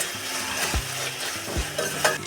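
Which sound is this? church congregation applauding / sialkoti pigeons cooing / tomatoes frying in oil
tomatoes frying in oil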